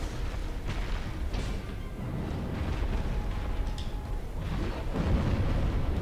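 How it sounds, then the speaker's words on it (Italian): A magic explosion in the Dark Souls video game, fought in the lava-filled Lost Izalith area, gives a steady, heavy rumbling roar that swells near the end and fills the whole stretch. "Esplosione magica."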